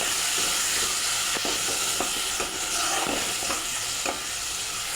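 Hot water goes into chicken frying in a pan for chicken haleem, raising a loud, steady sizzle and steamy hiss with repeated spoon scrapes against the pan.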